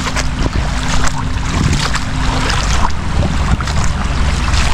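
A father's small wooden fishing boat rocking on open sea water, with steady wind and lapping waves forming a constant wash; faint voices sit far under the noise.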